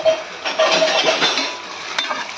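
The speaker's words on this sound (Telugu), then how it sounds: "ముందుగా కుక్కర్ ఇలా ఆన్ చేసుకొని అందులో కొంచెం ఆయిల్ వేసుకొని జీలకర్ర ఎండుమిరపకాయలు వేసాను" Cumin seeds and dried red chillies frying in a little oil in a pressure cooker, a soft steady sizzle with occasional stirring scrapes and a light metallic clink near the end, no talking.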